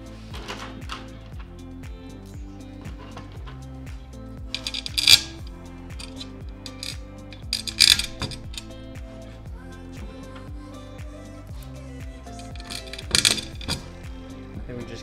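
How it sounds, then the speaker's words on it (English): Metal washers and nuts for a Pelican case roof rack mount clink and rattle as they are handled, three bright jingling bursts over soft, close fiddling noises. "Let's put some washers on there and get them in."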